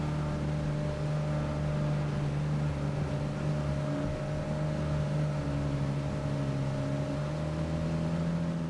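A wave runner jetski with a quiet four-stroke engine runs steadily out at sea near the harbour, a continuous low drone with a smooth hum that holds an even level throughout, with no talking.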